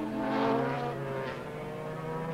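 Formula One racing motorcycles at Thruxton in 1988 rise in a loud, sustained engine howl, swelling and fading as they pass at racing speed on the circuit.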